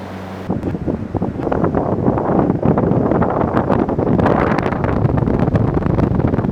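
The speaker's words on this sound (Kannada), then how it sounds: "ನೋಡಿ ಸರ್ ಯಾವ ಥರ ಗಾಳಿ ಬರ್ತಾ ಇದೆ ಅಂತ" An appliance on demonstration in a showroom blows a strong, loud blast of air that roars steadily against the microphone for several seconds, rough and gusty, before cutting off abruptly.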